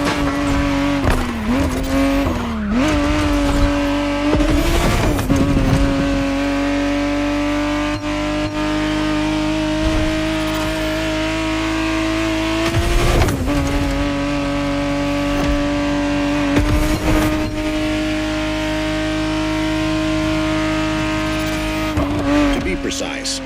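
A 1991 Ferrari 512TR Testarossa flat-twelve engine driven in The Crew Motorfest, a steady loud drone that climbs and falls through gear changes, with tire squeal in places and talk over it.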